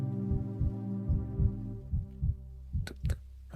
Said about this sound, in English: we got a heartbeat